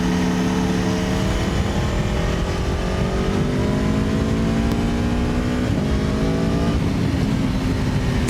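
Aprilia Tuono V4 Factory 1100 motorcycle accelerating hard, its V4 engine note climbing steadily in pitch through a continuous loud run, close up with no talking.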